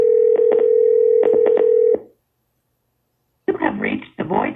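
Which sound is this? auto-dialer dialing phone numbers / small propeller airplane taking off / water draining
auto-dialer dialing phone numbers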